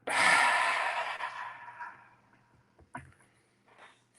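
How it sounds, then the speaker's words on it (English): A single deep breath exhaled hard and close, a loud breathy rush that fades over about two seconds, followed by quieter breathing sounds. "Another nice deep breath in and hard out."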